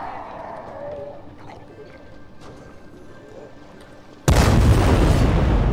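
A firecracker bursts in Dying Light 2 as one sudden, loud blast near the end, its rushing roar holding to the close after several quiet seconds of low game ambience.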